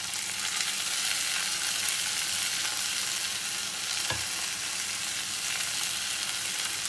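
Vegetables and chicken frying with golden onions in a pan for a butter garlic pepper sauce, a steady dense sizzle throughout with a brief stirring scrape near the end, close and alone.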